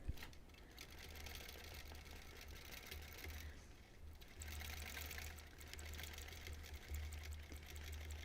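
A quilting machine stitching freehand across a Double Wedding Ring quilt topper, a steady close mechanical whir and rapid needle chatter running continuously with slight shifts in speed.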